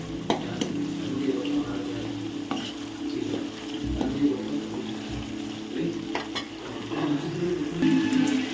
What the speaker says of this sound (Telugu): ఇప్పుడు ఉల్లిపాయ అయితే వేగిపోయింది